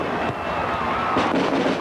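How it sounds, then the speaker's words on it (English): Fireworks going off at a 1996 rugby league trophy celebration for Salford, a dense crackling barrage of bursts over crowd noise, loud and continuous with a few sharper pops standing out. "The fireworks are making a right racket."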